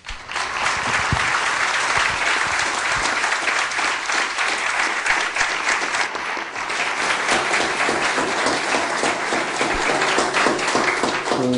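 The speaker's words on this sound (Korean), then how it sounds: "여러분 박수로 행장님 맞이해 주시죠" Sustained audience applause and clapping at a university CEO lecture in Korea, welcoming a bank president to the stage; dense, steady and loud throughout, without speech over it.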